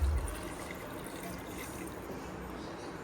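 Water drains off boiled rice meant for chicken biryani in a soft, steady trickle. It is faint but close, with a brief louder splash at the very start and no voices.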